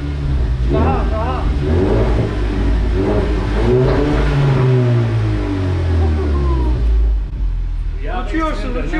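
A car engine revs hard several times during a drifting session in Iraq, its loud rumbling swells rising and falling close by beneath excited voices of people talking over it.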